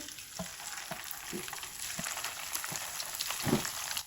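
Small potato and semolina tikkis frying in oil, giving a steady close sizzle broken by soft crackles and occasional pops, with no talking.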